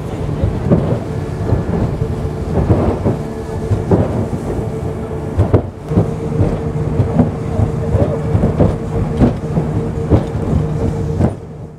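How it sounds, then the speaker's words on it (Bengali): A speedboat runs fast on the open sea on a Coral Island tour off Pattaya, its engine giving a loud, continuous low roar with steady hull thumps and splashes, close to the listener throughout. "বিশাল জোরে চলছে কিন্তু এখন আমাদের বোট"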